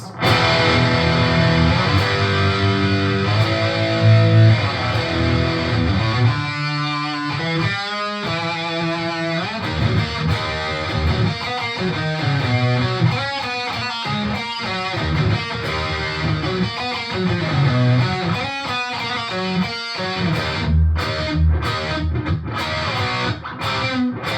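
An electric guitar is played through a G4M GA-20E mini half stack amp with the gain set for metal distortion. Loud, saturated chords ring out, then give way to tight palm-muted chugs and staccato bursts.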